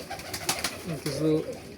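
High-flyer pigeons coo close by, a soft throaty rolling call near the end, with faint rustling before it.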